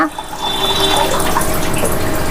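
Water poured into a cooking pot to fill it for lemon rasam, a steady close rushing stream that starts abruptly and runs continuously.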